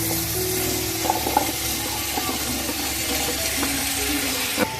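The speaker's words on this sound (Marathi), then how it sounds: "मसाला चांगला परतून झालाय आता आपण ह्याच्यामध्ये कापलेले बटाटे करूया" Cut potatoes going into sizzling masala in hot oil for a dried Bombay duck curry, a close, steady sizzle with scattered clinks and stirring scrapes over the bubbling, no talking.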